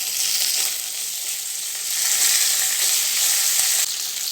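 Mustard seeds, cumin and curry leaves sputtering in hot oil for a Tamil green moong dal kuzhambu, with a loud, continuous bright crackling hiss that swells slightly midway.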